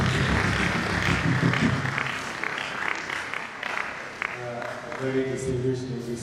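Scattered audience clapping at a lecture hall event, moderate and fairly dense at first, then thinning as a voice begins speaking over it toward the end.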